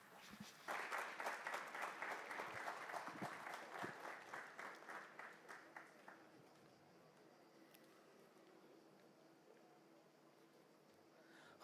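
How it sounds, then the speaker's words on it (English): Applause from pilgrims in a church, many hands clapping steadily for about six seconds before fading into quiet room tone, heard somewhat distant and faint. "Let us give them a big applause"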